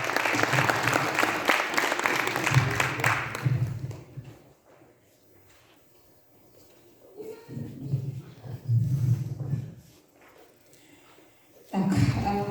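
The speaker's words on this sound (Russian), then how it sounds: "Аплодисментами встречаем." An audience at a children's short film festival award ceremony claps in a dense burst of applause, which fades to near quiet before two more rounds of clapping rise and a fresh burst starts at the end.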